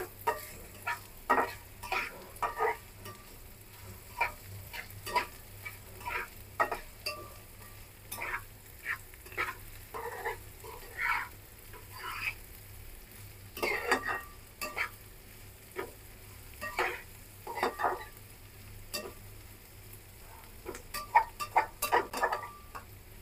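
Potatoes fry quietly in a pan, with scattered soft crackles and pops and occasional scraping taps of stirring over a low background.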